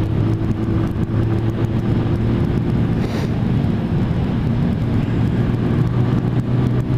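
A Lexmoto ZSX motorcycle cruising along a road, its engine a loud, steady drone mixed with heavy wind rush, holding an even pace throughout.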